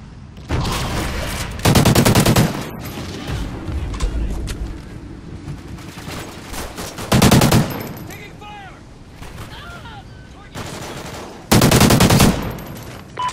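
Bursts of machine gun fire from a multiplayer shooter game battle, loud sustained volleys that come in repeated waves several seconds apart, separated by quieter stretches of distant shots, mechanical clatter and faint background voices.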